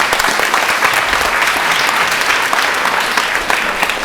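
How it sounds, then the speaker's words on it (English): Audience at a city proclamation ceremony applauding, dense even clapping from a sizable crowd, loud and sustained without pause. "let's give them a hand of applause."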